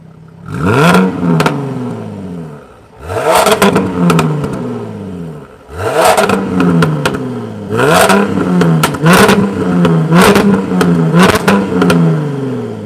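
A 2021 Jaguar F-Type P380 R-Dynamic engine revs hard with the exhaust valve open, four or five loud rising roars with brief drops between, exhaust crackling at the tops.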